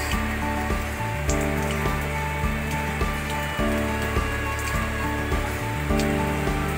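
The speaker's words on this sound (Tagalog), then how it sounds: "lakas ng ulan." A constant heavy downpour from Typhoon Carina and the southwest monsoon drums on nearby surfaces, with scattered louder drops and splashes breaking through the steady roar.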